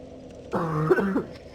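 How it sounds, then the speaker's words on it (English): A single throat clearing, a brief rough rasp with a catch in it, heard close and alone against near silence during Dark Souls play. "I was about to cough"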